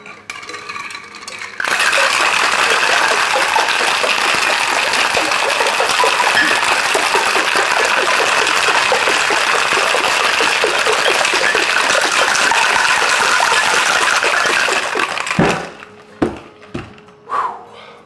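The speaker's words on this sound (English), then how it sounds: "So let's go ahead and shake them up." Mai Tai cocktails shaken with ice in several shakers, a loud, steady rattling of ice that lasts about fourteen seconds before stopping abruptly, followed by a few scattered clinks and knocks.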